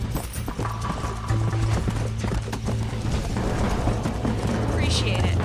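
Horse hooves in Red Dead Redemption clip-clop steadily at a quick trotting pace, close and clear, with faint mechanical game sounds behind them.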